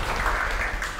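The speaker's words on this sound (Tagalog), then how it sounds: "The best na palakpak ulit para kay Jesus." Applause from a church congregation after a prayer, a steady, dense wash of clapping filling the whole moment at moderate loudness with no voices over it.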